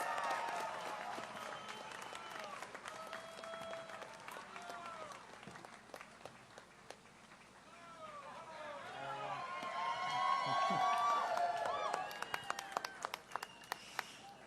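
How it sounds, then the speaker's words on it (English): A crowd at a Los Angeles political campaign event applauds as a speaker is introduced, a faint, distant wash of clapping with scattered sharp claps and murmuring voices that swells toward the end. "Let's give him a round of applause."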